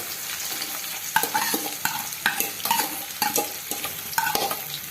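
Onions sizzle and fry in hot oil while a spoon scrapes and stirs the pan in quick, regular strokes, close and fairly loud.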